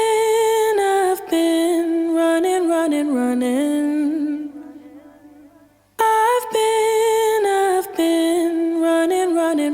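A singing voice sent to a bus with a UAD EMT plate reverb, held sung phrases whose last long note fades into a reverb tail before the line starts again, close and clear.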